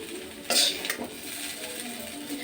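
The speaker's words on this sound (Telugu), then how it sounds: "బీన్స్లో ఉన్న వాటర్ మొత్తం వెళ్ళిపోయేలాగా బాగా కలుపుతూ వేయించుకోవాలి" Beans frying in a pan while being stirred: a sharp metallic scrape and clink of a utensil against the pan, then a few lighter knocks over a soft background hiss.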